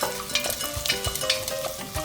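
Sliced calabresa sausage sizzling and frying in a hot iron pan, a crackling sizzle with brief stirring scrapes and clanks, close and alone without speech.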